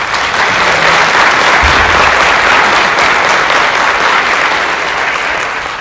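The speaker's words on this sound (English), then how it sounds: "please join me in giving a tremendous round of applause" Loud, dense applause from a room full of educators and administrators at a recognition event, sustained and even throughout and tapering slightly at the end.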